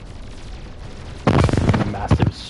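Gunfire bursts out from the huge ships of a space battle in Mass Effect 3, a loud, rapid stream of shots and explosive blasts that erupts suddenly after a quiet lead-in and continues in clustered volleys.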